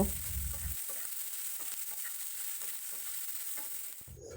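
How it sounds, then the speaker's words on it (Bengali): Chopped onions frying in a pan, a steady loud sizzle with stirring scrapes, the hiss dropping briefly near the end, with no voices. "পেঁয়াজটিকে খুব ভালো করে ভেজে নিতে হবে"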